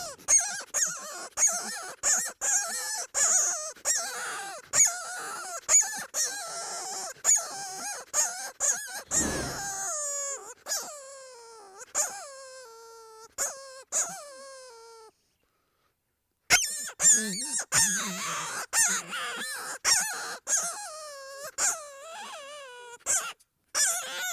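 A FlexTone predator call imitating a distressed rabbit gives a long series of loud, close, wavering squealing cries that bend in pitch. The cries come in repeated bursts with one brief pause.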